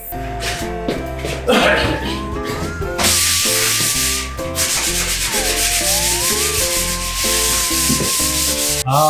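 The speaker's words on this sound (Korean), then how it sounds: "이게 그 프라이머 칠하기 전에 1차 샌딩이라고 면을 이렇게 깔끔하게 평탄화 작업을 해야 돼요" A surface is given a first sanding to flatten it before priming for metallic interior film. A steady, raspy hiss of abrasive rubbing runs for several seconds beneath loud background music.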